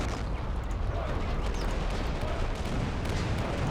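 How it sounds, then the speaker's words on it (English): Autocannons fire off in the war game Men of War: Assault Squad 2, a dense, continuous barrage of overlapping booms and rumbling shots at a steady loudness, with a battlefield din underneath. "just a lot of autocannons firing off"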